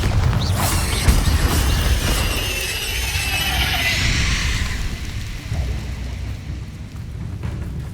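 Bombarda blasting spell in the video game Hogwarts Legacy, a loud booming burst with a rumbling, crackling roar that slowly fades over several seconds, no talking.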